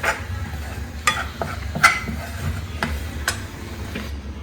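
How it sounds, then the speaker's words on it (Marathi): Besan (gram flour) being roasted in ghee in a pan and stirred by hand, with soft continuous scraping and faint sizzle marked by a few sharper spoon clicks against the pan, close and steady, no talking. "याच्यात आता हे बेसन टाकायचं पहिलं आणि हे परतून घ्यायचं तर इथे असं आपण मस्त असा भाजून घ्यायचं याला तुपामध्ये"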